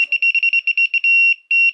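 A wire tester checking live wiring for a wall dimmer switch gives a series of sharp, high electronic beeps, some quick and clustered, others longer and held, loud and close with silence between.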